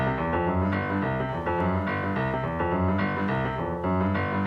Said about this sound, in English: So the boogie-woogie bass line, there's a bunch of different ways to do it